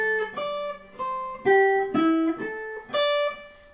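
An electric guitar plays a short blues phrase of box notes in A: single picked notes with bends and slides, several per second, close and clean with no talking.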